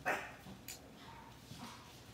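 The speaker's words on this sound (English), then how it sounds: "Oh, dogs." Dogs barking at a distance, one sharp bark near the start followed by faint, scattered yips and barks over quiet room ambience.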